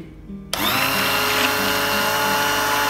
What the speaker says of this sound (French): Je donne un coup de mixeur plongeant pour que les particules de gras se mélangent bien.